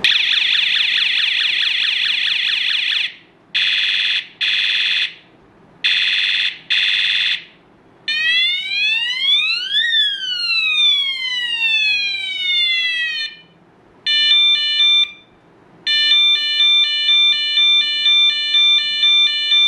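A rechargeable bicycle horn runs through its different sounds: loud bursts of a buzzing alarm tone, then rising and falling siren sweeps, then rapid stepped electronic warbles, each played alone with short gaps between.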